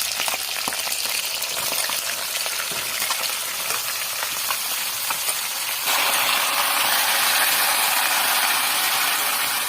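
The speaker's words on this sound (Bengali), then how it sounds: "এই বড়ি দিলাম, সব একসঙ্গে ভেজে দেবো লাল করে" Loud, steady sizzle of a fish head frying in hot oil with lentil dumplings, chilies and bay leaves, with scattered scraping clicks of stirring; the hiss grows brighter and denser partway through.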